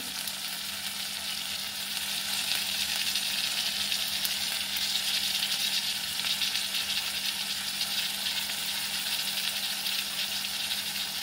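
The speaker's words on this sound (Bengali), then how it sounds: "এবার গোবিন্দভোগ চালটা যে ধুয়ে জল ধুয়ে রেখেছিলাম সেটা এর সাথে এবার ফ্রাই করে নেবো।" Washed Gobindobhog rice fries in hot oil with a steady, close sizzle and fine crackling, an even hiss that carries on without a pause and with no talking over it.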